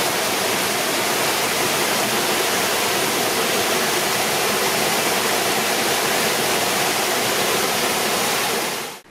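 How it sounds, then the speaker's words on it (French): Waterfall on a stream beside a forest walking trail, a dense, steady roar of falling water that stays loud and close throughout before cutting off abruptly at the end. "Donc voilà la deuxième cascade, qui était un peu cachée"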